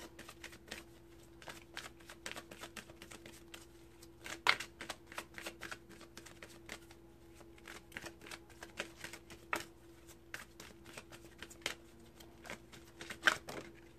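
Doreen Virtue Romance Angels oracle cards are shuffled by hand, giving quiet, close, rapid riffling and tapping clicks in irregular bursts with a few sharper snaps, and no talk.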